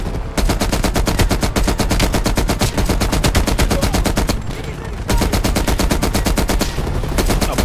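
Automatic gunfire from Call of Duty: Black Ops Cold War hammers out in long, rapid, evenly spaced rounds, loud and close, broken by one brief pause before the firing resumes.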